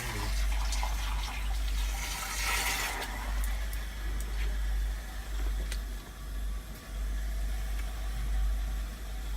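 Air and water rushing steadily from a dry alarm valve during commissioning, a loud continuous hissing flow with a low rumble underneath and occasional faint clicks, no talk.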